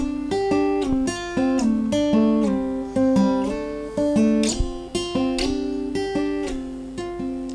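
Acoustic guitar picks out the intro notes of a song, a steady run of plucked single notes and small chord fragments, close and clear, alone with no voices.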